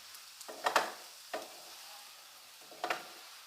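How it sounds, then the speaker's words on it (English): Drumsticks cooked with grated coconut in a frying pan for a Goan-style dish are stirred, giving a few separate scraping strokes over a faint sizzle, close and fairly quiet. "After you add coconut, just a minute, just keep on stirring it"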